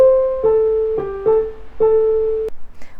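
A piano accent struck with a harsh stabbing motion: a few sharp, separate note attacks ringing briefly, with a final abrupt hit cutting off near the end, close and loud with no talking.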